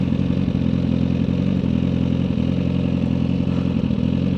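A Suzuki GSXR 1000R sport bike's engine drones steadily while being ridden at low speed, a loud, close, even hum with a slight mechanical clatter and no talking.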